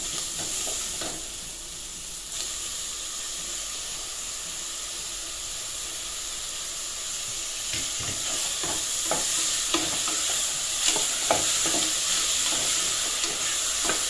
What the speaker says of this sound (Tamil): தக்காளி லைட்டாக வதங்கிட்டு இருக்கும்போதே நம்ம அரைச்சி வச்சுருக்கிற இஞ்சி பூண்டு பேஸ்ட்டையும் சேர்த்துக்கலாம்.